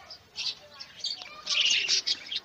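Pet budgies and lovebirds chirp from their cage in quick, bright bursts, several overlapping tweets rising and falling close by, fairly soft overall.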